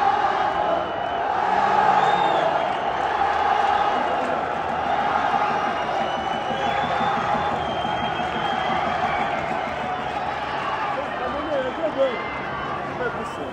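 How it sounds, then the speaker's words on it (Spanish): A packed stadium crowd roars in ovation for Cristiano Ronaldo after his goal for Al Nassr, with sustained cheering and rhythmic chanting of his name filling the air continuously and loudly throughout. "un tanto que ocasionó la ovación de todo el estadio que coreaba el nombre de Cristiano Ronaldo"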